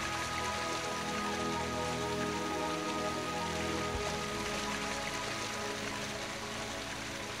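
Steady rain falls in a dense, continuous patter with no break or change in intensity, fairly loud and even throughout, with no voices.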